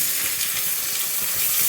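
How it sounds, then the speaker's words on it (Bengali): Onion frying in a little oil with whole spices, a dense, steady hiss and sizzle close up, unbroken for the whole moment with no talk. "প্রথমে আমি এই পেঁয়াজটা একটু লাল লাল করে ভেজে"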